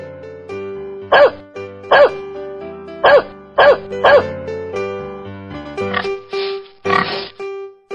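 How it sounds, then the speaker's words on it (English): A dog barks five times in sharp, evenly spaced yaps over a soft tonal music bed, followed by a few other short animal calls. "Dog."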